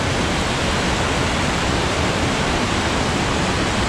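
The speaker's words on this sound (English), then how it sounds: "admire the mighty sound of the falls" Cucumber Falls, a waterfall in a gorge at Ohiopyle State Park, Pennsylvania, roars as a dense, steady broadband rush of falling water, loud and close, unbroken for the whole stretch with no voices.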